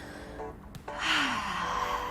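A deep breath drawn in, then a long airy exhale during an intense abs workout, close to the mic and fairly loud, with a faint tonal sweep underneath.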